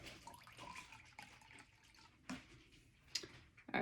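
Beet juice trickles into a 2-cup measuring cup in small, careful pours, a soft, fairly quiet liquid splashing with brief bursts near the end.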